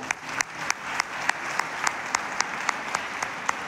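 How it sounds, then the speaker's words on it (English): A student audience at a school event claps for a dancer, a continuous wash of applause punctuated by sharp, evenly spaced louder claps close by. "So big round of applause for that guy."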